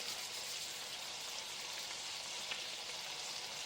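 Eggs and bacon frying in a pan, a steady close hiss of sizzling fat with fine crackles running the whole time, no voices.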